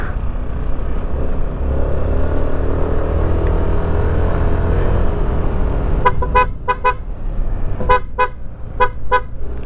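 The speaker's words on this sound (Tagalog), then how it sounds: "Kailangan natin bumusina." A car horn toots in several short bursts, some paired, over the steady rumble of an engine on a mountain road with blind curves.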